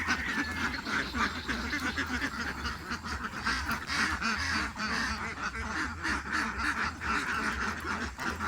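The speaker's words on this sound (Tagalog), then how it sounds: "Kalingaw ang mga itik ba?" A flock of farm ducks quacks continuously and densely nearby, many overlapping calls forming a loud, busy chorus.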